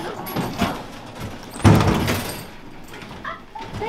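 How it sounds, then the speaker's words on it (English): A door being forced open on a theatre stage, a few scattered knocks, then a heavy thud and scraping strain midway, fairly close, with voices around it. "The door is starting to open."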